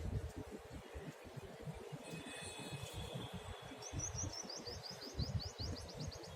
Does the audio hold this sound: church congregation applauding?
no